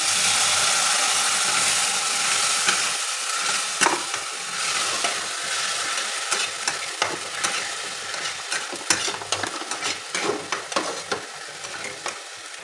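Paste of garlic, ginger, tomato and green chilli frying in a pan for prawn malaikari: a steady hissing sizzle that fades a little, with frequent clicking scrapes of a stirring spoon, close up and without speech.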